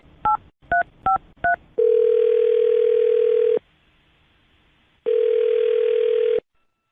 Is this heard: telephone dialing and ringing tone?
yes